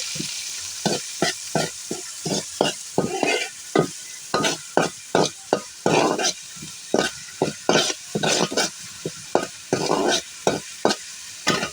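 Garlic, onion, ginger and bay leaf fry in hot oil while a spoon stirs in quick repeated scrapes over a constant sizzle, close and loud with no talking.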